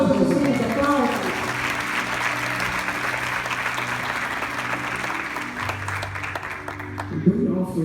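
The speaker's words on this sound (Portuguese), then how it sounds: "Aplausos, Aplausos. gente, aplausos." A church congregation applauds during a healing and deliverance service, a dense, steady wash of clapping lasting throughout, with sustained music or voices underneath.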